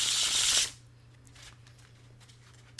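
A quick riffle of plastic tarot cards being shuffled, a bright crisp flutter lasting under a second, followed by near silence with faint handling.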